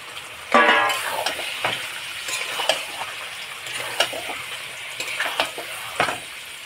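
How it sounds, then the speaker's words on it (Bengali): Goat meat sautéing with spices in a pan, a soft sizzle broken by intermittent stirring clinks and scrapes, close but fairly quiet. "ভালো করে কষিয়ে নেব।"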